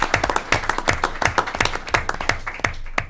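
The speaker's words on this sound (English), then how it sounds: "And everybody should give her applause because she did." Clapping breaks out at a town board of selectmen meeting, a small group's hands striking in quick, uneven bursts that stay close and fairly loud for a few seconds.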